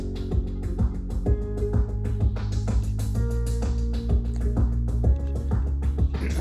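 An electronic remix built in Apple Logic plays with a steady beat, heavy low bass, piano chords, gated strings and delayed synth lines, dense and continuous at an even level without any talk.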